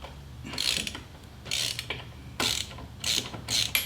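A ratchet wrench clicks in quick, close bursts while loosening the starter bolts on a Harley touring motorcycle, with short pauses between the rapid pawl runs.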